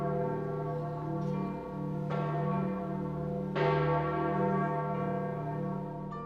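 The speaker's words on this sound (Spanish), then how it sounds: "Los retoques graves de una campana del Vaticano también lloraron su muerte" A Vatican church bell tolls deep and slow, three or four strong strikes about one and a half seconds apart, each leaving a long ringing hum that fades under the next.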